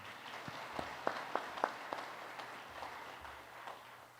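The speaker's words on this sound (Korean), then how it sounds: "감사 박수 드리겠습니다" Thanks applause for the pastor at a Korean church men's fellowship service: faint, scattered claps in a quiet hall, a few sharper claps standing out over a low background hum.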